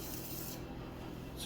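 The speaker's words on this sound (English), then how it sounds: "Do one more scrape on the bottom corner." A tool scrapes the bottom corner of a clay pottery mug with a soft, continuous close rasping rub, faint and steady for the whole short moment.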